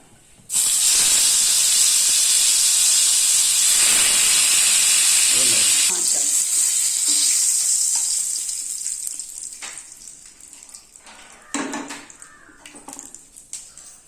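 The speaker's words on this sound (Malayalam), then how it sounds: "ബാക്കിയുള്ള പീസും കൂടി ഇതേപോലെ വറുത്തെടുക്കാം." Chicken pieces for biryani hit hot oil with a sudden loud hissing sizzle that holds for several seconds, then gradually calms into quieter crackling with a few clanks of stirring.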